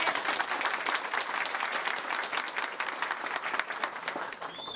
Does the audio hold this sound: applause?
yes